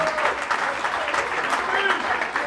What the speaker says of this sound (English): Give Jimmy a nice round of applause.